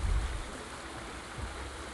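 Acidic water washes gently around stones in a video game, a soft continuous trickling and lapping with a low rumble at the start, faint and steady with no voices.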